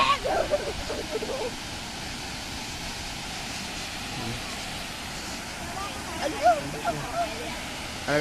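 Chat Trakan waterfall, first tier, gives a steady broad rushing roar of falling water that fills the whole span at moderate level, with a few faint scattered sounds on top.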